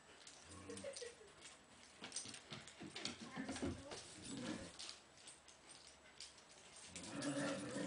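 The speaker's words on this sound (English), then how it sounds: "She's growling because she's happy." A dog at a playdate makes soft, playful growls and whimpery grumbles in several short bursts, fairly close, with other dogs and people's voices mixed in under the noise.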